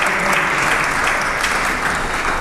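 Audience applause for a nun being called up, a loud, dense and steady clapping from a sizable crowd throughout a short span.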